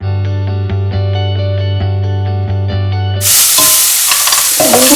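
Onions salted and stirred in a pan for samosa filling, first a steady tonal hum with a regular ticking pulse, then a loud burst of sizzling and scraping for the last couple of seconds.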